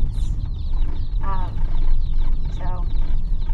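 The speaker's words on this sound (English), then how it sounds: "as you can probably hear, the chickens are in here" Chickens in boxes or a bathtub cluck repeatedly in short, bright bursts, several overlapping calls close by, with a voice briefly heard beneath them.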